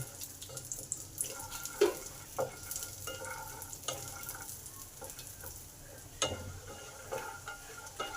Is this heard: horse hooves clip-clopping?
no